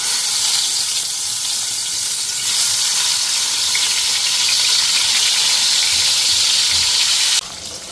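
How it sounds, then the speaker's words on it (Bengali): Fish coated in salt and turmeric frying in a hot pan, giving a loud, steady, dense sizzle that holds constant throughout and drops slightly in intensity at the very end. "তো মাছে লবণ হলুদটা মাইখা মাছটা ভাজিয়া নিই।"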